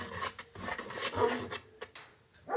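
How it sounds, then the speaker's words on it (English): A whisk scrapes and swishes through banana coconut bread batter in a bowl, with quick rasping strokes in uneven bursts, close and fairly quiet. "So we're going to use our whisk. And we're going to just mix it up."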